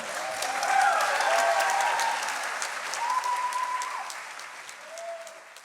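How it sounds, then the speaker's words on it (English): Audience applause for mid-year graduates at an in-person completion celebration, a broad steady clapping wash that swells early and slowly tapers off, with faint voices rising above it near the end. "let us please do our very best to applaud each and every one of the mid-year completers"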